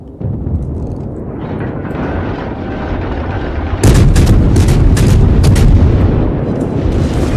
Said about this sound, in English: Starting to fire.